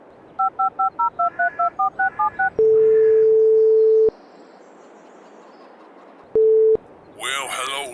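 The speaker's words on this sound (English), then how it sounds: "I'm going to give my friend a call." A phone in Farming Simulator 22 dials a call with about twelve quick touch-tone beeps, then a long ringback tone, a pause and a shorter second ring. A voice starts to answer at the end.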